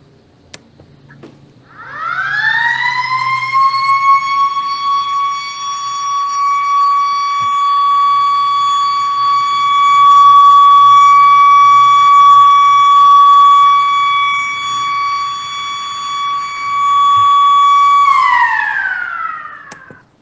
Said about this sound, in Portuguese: vou tocar a sirene e eu te aguardo na nossa próxima aula